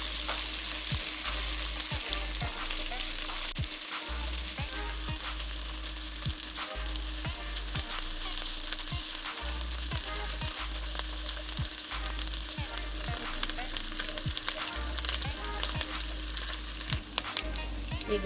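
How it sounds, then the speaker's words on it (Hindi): Garlic and ginger paste fries in a pan for palak gosht, a steady, moderately quiet sizzle with occasional light ticks and pops running throughout, no voices. "चम्मच लहसुन और अदरक का पेस्ट शामिल करें। इसे भी हल्का हल्का फ्राई कर लेंगे।"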